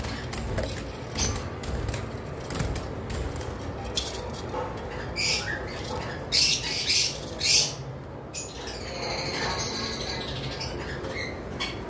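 Caged lovebirds, pied and non-pied, squawk loudly and keep at it in repeated shrill bursts, with several birds calling over one another close by.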